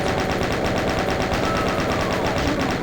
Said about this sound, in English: Let's get the chain gun out a little bit.